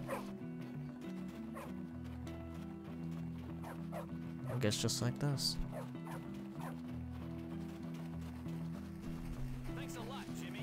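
A dog barks a few times in the video game Bully, a short cluster of yips in the middle over steady game music, with a person talking throughout.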